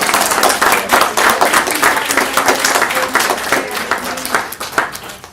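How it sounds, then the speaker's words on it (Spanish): Church congregation applauding in a worship service, dense hand clapping at close range that stays strong, then thins and softens toward the end. "Dale un aplauso al Señor."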